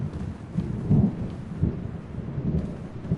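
Rain pours steadily in Kingdom Come: Deliverance II while low thunder rolls and rumbles beneath it in several swells, with no voices over the storm.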